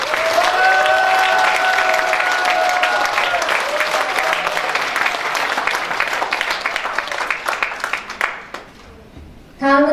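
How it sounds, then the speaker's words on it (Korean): An audience at a Korean forum event gives a sustained burst of dense applause, loud and even at first, then thinning into scattered claps before fading out. "큰 박수 한번 부탁드립니다"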